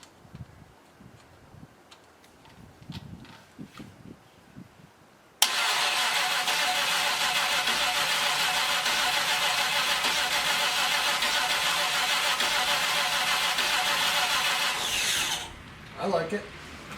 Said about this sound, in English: let's see if it rotates the engine anyway